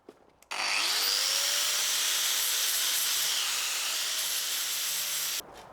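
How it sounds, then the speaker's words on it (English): Angle grinder fitted with a wire brush scrubbing the metal of a 1950s pantry cupboard, a loud, steady abrasive hiss and whine that starts abruptly, holds for about five seconds close by, then cuts off. "I'm going to use the regular wire brush on the angle grinder."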